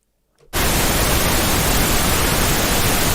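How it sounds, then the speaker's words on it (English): Compressed pink noise test sample bursts in abruptly after a brief silence and holds as a loud, steady, broadband hiss to the end. "this is a pink noise"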